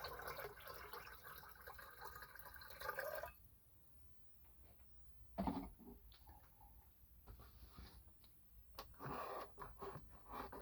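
Fresh water poured into a container during hobby e-waste gold refining: a few short splashing pours and drips separated by quiet gaps, close and fairly faint, with no talking.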